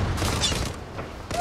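A burst of automatic gunfire rattles in the Zula online shooter, several quick shots early on, then a brief pause and another shot near the end, moderately loud.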